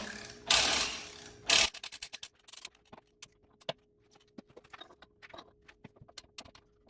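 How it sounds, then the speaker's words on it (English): A torque wrench with a specialty socket tightens a drum brake hub: two dense bursts of ratcheting, then a long series of sharp, scattered clicks and small metallic taps close by, with no talk. "Specialty socket on a torque wrench. I've got preset. We'll get it torqued down."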